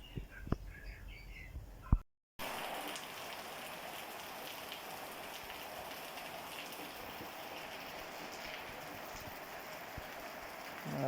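Heavy rain pouring down on a farm, a dense steady hiss of drops on surfaces after a brief opening of scattered sounds and a short cut.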